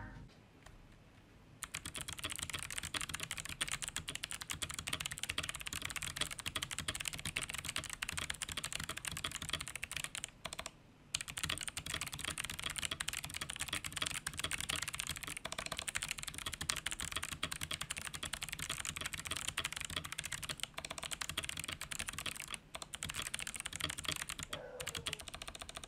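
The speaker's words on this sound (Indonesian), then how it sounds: "mau dengerin sound test dari keyboard ini yang udah bener-bener dimodifikasi sama gue" Steady, rapid clacking of a modded Fantech Maxfit67 wireless mechanical keyboard being typed on continuously, close up, with only a brief pause partway through.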